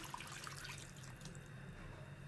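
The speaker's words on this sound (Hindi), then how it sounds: "3 गिलास हमारे पास पानी है, ये हमने डाल दिया" Three glasses of water poured into a karahi holding a kilo of raw mutton, a steady low splashing and trickling that runs without a break, close by and with no talk.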